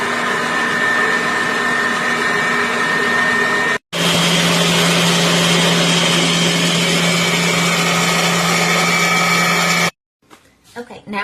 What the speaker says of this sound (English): I'm going to turn the cream cheese mixture back on, and I'm only going to add 1 egg at a time.